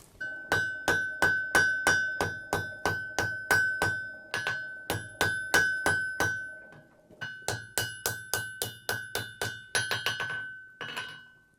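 Blacksmith hammering wrought iron to draw out an 18th-century frontier tomahawk, loud ringing metallic blows in steady rhythmic runs of about two per second, with a brief pause midway and a faster flurry near the end.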